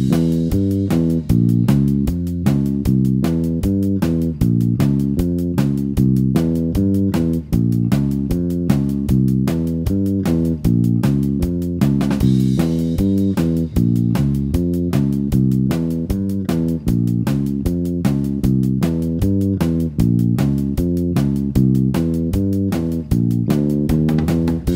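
A ska bass guitar plays the main verse riff of a song, a bouncy, evenly pulsing line of short plucked notes that repeats steadily and alone for the whole stretch.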